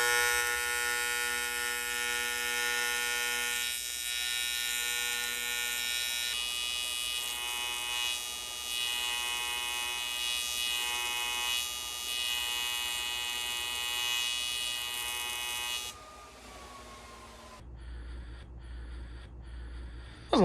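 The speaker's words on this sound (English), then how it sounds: "Let's go weld this dude up." MIG welding on a fuel tank strap for a Subaru-swapped rear-wheel-drive Honda CRX, a steady close buzzing crackle that holds for about sixteen seconds, then a shorter quieter stretch of hum and faint ticks.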